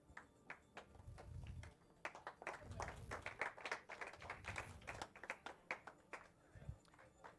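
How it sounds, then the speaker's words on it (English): Scattered audience clapping at a live studio event as contestants are brought out, uneven claps building and thinning over several seconds, with talk mixed in. "Hold your clapping."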